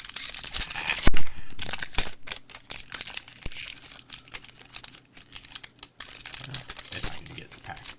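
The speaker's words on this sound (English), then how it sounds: "If I can get the pack open." Crinkly tearing and crumpling of a Magic: The Gathering Foundations booster pack wrapper being pulled open, with sharp bursts of plastic rustle scattered across the stretch.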